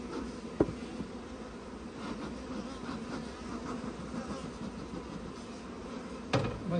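Many honeybees buzz steadily in a dense, close swarm at an open hive, with a couple of sharp knocks breaking through the drone.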